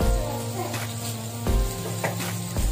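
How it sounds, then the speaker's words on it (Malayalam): Oil left over from frying masala-coated fish sizzles steadily in a hot pan for Kerala-style fish biryani, with a low hum underneath and a few soft knocks as the oil goes in. "അതിലേക്ക് നമുക്ക് ഈ മസാല മീൻ ഫ്രൈ ചെയ്ത് വെച്ച എണ്ണ തന്നെ നമുക്ക് ഒഴിച്ചു കൊടുക്കാം."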